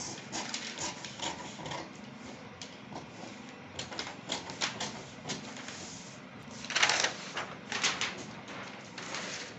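Scissors cutting fabric for a corset blouse, with close, crisp snipping and rustling in uneven bursts and a louder cluster partway through, with no voice over it.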